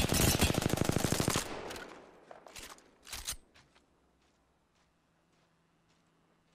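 A fast, loud burst of automatic fire in Apex Legends rattles for over a second, followed by a few scattered shots and fading impacts, then near quiet with faint footsteps.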